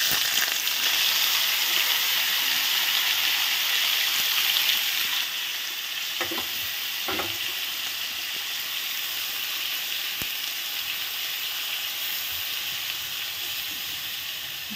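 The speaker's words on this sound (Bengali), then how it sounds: "এবার আমি কড়াইতে আস্তে করে ঢেলে দেব।" Mourala fish batter fries in a wok with a steady, close sizzling hiss throughout, briefly louder at the start, with a few soft clinks and stirs along the way.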